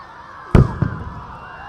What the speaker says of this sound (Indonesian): Dentuman meriam telah dibunyikan dan lomba pacu jalur pun telah dimulai.